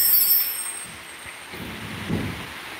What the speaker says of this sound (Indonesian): Sini hujan lur.